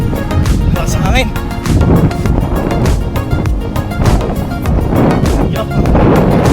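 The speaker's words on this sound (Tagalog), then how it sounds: "Lakas ang hangin." Strong gusty wind buffets the microphone in loud roaring bursts while a person out jogging speaks over it.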